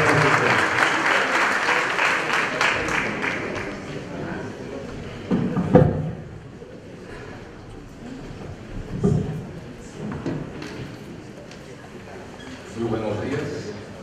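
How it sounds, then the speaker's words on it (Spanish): Audience applause at a national notarial seminar in Trujillo for a speaker, a few seconds of dense clapping that gives way to scattered thumps, room noise and later talk. "Demos un aplauso al doctor Juan Belfort Zárate del Pino"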